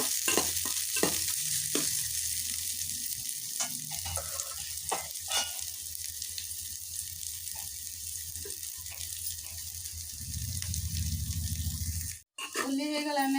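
Onions fry in oil in a kadai while chilli bhajiya is made, giving a steady close sizzle with stirring scrapes and occasional clinks, a brief sharp knock near the end.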